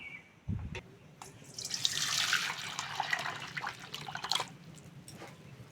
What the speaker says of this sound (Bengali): এবার জল দিয়ে দেবো এবার ডালটা ঢেলে নেব